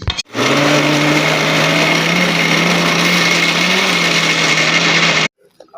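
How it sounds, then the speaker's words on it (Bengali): A kitchen mixer grinder whirs loudly and steadily for about five seconds, grinding ol (elephant foot yam) leaves into a paste, then cuts off abruptly into near silence. "একবার বেটে নিতে হবে মিক্সি করে।"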